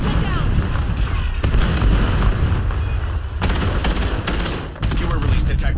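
Gunfire and explosive blasts from a frag grenade crackle through a loud, dense Black Ops 7 firefight, with bursts of shots and booming impacts continuing throughout and a sharp flurry near the end; voices call out under the din.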